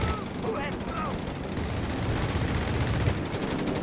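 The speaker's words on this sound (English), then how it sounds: "Looks like to be another strafing run here from Drachwal and the 41st Infantry, forcing Momo's men in the center to scatter." Heavy machine-gun fire from a strafing run in the strategy game Company of Heroes 3, a dense, continuous rattle of shots that fills the whole moment, with a commentator's voice running underneath.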